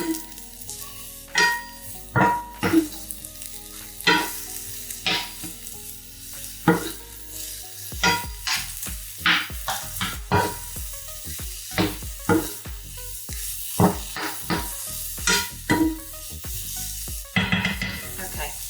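Aubergine pieces fry in a hot pan with a steady sizzle, while repeated stirring scrapes and clatters in uneven bursts throughout.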